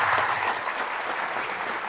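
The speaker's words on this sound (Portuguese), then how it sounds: "uma salva de palmas para esse grupo que está aqui" Applause for a group of course participants at a leadership training session, steady crowd clapping at moderate loudness that fills the whole short stretch without a pause.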